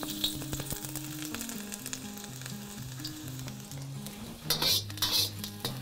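Minced garlic sizzles in hot grapeseed oil in a wok, a steady close frying hiss with clinks of a utensil against the pan that swell louder near the end; no voices.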